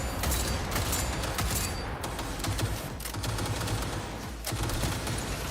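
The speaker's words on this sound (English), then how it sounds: "It looks like he's shooting to the side." Sustained gunfire rattles through a Cyberpunk 2077 firefight, dense overlapping shots and bursts continuing at steady loudness for several seconds, with a few sharper cracks standing out.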